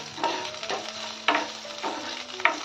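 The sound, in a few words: capsicum being stirred and sautéed in oil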